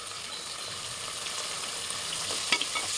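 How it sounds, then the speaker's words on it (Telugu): Chicken biryani with mint and coriander fries and sizzles steadily in a pan, with faint scrapes as it is stirred and a small clink near the end. "దీన్ని మంచిగా ఫ్రై చేసుకోవాలి"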